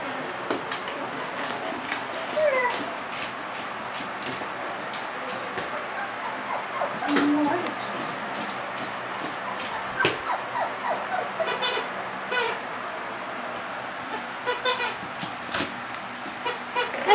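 A puppy yips and whimpers in short, scattered bursts, some louder than others, with a steady rumble in the background.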